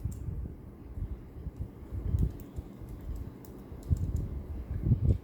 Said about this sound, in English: let's tap the tab key now to move over and type the closing